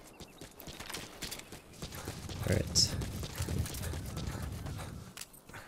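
Horse hooves clip-clop steadily in Metal Gear Solid V: The Phantom Pain, a close, rhythmic run of footfalls that carries through the whole stretch, with a brief spoken word over it.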